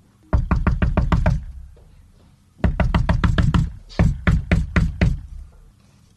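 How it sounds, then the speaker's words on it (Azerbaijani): Loud, close knocking on a door in quick bursts: a rapid run of about six knocks, a pause, then a longer series of raps. "Əvvəlcə böyük quzunun evini tapıb qapını döyür."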